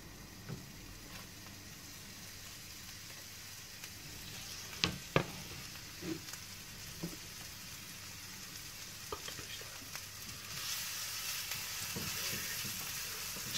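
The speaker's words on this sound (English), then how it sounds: "So I'm going to start off with frying the onions." Chopped onions fry in a pan with a steady soft sizzle, broken by a few clicks and clatters of stirring, and the sizzle grows slightly louder toward the end.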